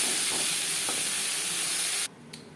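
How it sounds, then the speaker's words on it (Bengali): Pointed gourd (potol) fries in oil with salt and turmeric, a loud steady sizzle and hiss that cuts off abruptly near the end, followed by a faint clink. "লবণ হলুদ দিয়ে পটল হালকা করে ভেজে নেব।"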